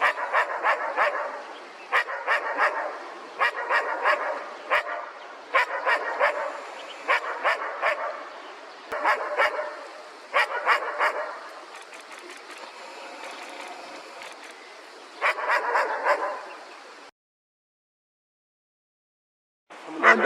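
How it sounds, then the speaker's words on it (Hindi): A dog barks in repeated bursts across a forest valley, each volley of loud barks ringing with echo, followed by a silent gap near the end. "और डॉग इस तरफ है और आवाज़ ऐसे गूंज रही है,"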